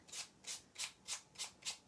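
Fine sandpaper rubbed firmly across a craft tag, six even rasping strokes at a steady back-and-forth rhythm, close and fairly quiet with no talk.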